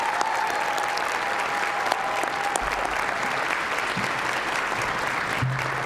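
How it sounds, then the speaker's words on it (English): An audience at a Boys & Girls Clubs special presentation applauds steadily and evenly for the whole stretch, a dense wash of clapping with no voices standing out. "Can we give these people a round of applause?"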